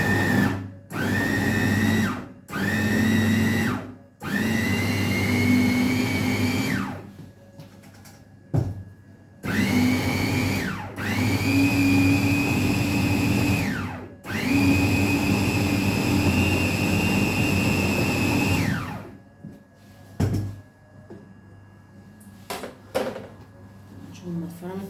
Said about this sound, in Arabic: هفرمها يا حبايبي في الكبه معاكم اهو